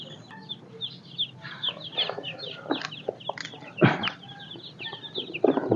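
Newly arrived broiler chicks peep in a cardboard box, a chorus of high, rapid chirps close by, with a few louder rustles and bumps between them.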